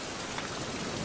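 Steady rain patters on a surface in the video game Survival: Fountain of Youth, a dense, even hiss with no breaks and nothing else on top.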